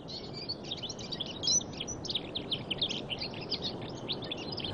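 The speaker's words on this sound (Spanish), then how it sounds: "ahora llegan los canarios en busca de su preciado néctar." Canary birds calling among red tajinaste flowers, a busy flurry of quick high chirps and twitters repeating without pause over a faint background hiss.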